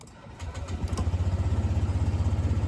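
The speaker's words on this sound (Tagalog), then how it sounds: "I-on natin yung engine" A Honda Click 125i scooter cranks briefly, then its engine catches and settles into a steady, close, throbbing idle with an even rapid pulse; no talking.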